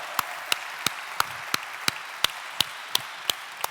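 An Italian audience at a public cultural event claps in unison as a tribute to a journalist. The claps are sharp, evenly spaced and rhythmic, about three per second, and fairly quiet and distant.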